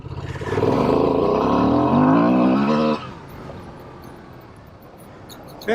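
A Honda Transalp motorcycle accelerates hard in second gear on flat, empty off-road ground in Idaho. The loud, close engine note climbs in pitch for about three seconds, then drops to a quieter idle-like rumble as the throttle closes.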